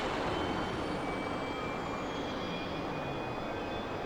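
A T-45C Goshawk jet engine spools up in the DCS flight simulator, a steady loud roar with rising whine tones, no voices.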